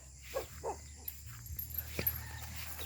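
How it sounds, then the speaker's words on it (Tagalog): A dog gives a few soft, short barks and whimpers at a distance, scattered over a quiet outdoor background with a low steady hum. "Aso namin"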